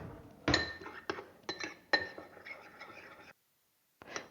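A spoon clinks against a glass bowl while keto ingredients including oat fiber are stirred together, giving a string of close, sharp taps and scrapes that stop abruptly before one last clink.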